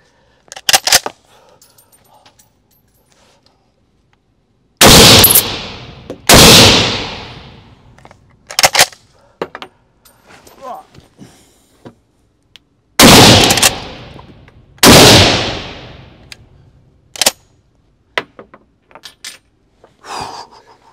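A customized Swiss K31 bolt-action rifle, sporterized, fires several loud, sharp shots spaced a few seconds apart outdoors, each with a quick ringing decay, and there are faint handling clicks and brief quiet exclamations between the shots.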